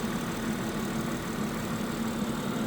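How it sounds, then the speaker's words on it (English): A 2022 BMW 740i xDrive M Sport with a twin-turbo V6 idles in a steady, even drone, close and alone with no talking. "It's not V8, it's a V6 twin turbo."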